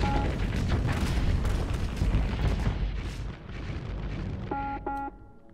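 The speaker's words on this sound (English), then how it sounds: "Oh, a lasher exploded." A Lasher ship explodes in a Starsector fleet battle: a dense roar of rumbling blasts and booms that fades toward the end, followed by two short electronic beeps.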